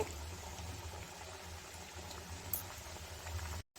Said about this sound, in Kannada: ಇದನ್ನು ಇದೇ ರೀತಿ ಗೋಲ್ಡನ್ ಬ್ರೌನ್ ಬರೋವರೆಗೂ ಫ್ರೈ ಮಾಡಿ ತಗೋಬೇಕಾಗತ್ತೆ